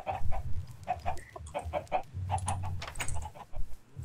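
Chickens in a video game cluck close by in quick, uneven bursts over a low rumble, with no talking.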